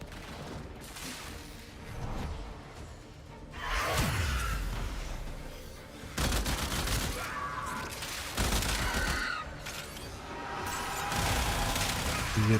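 Gunfire erupts in the video game Warframe, coming in repeated loud bursts and volleys at close range, separated by short quieter gaps, with whooshing effects mixed in.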